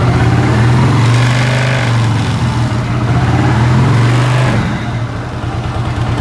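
A Suzuki Shogun SP 125 motorcycle engine revs loudly and close, holding a high rumbling drone before dropping back to a rougher idle near the end.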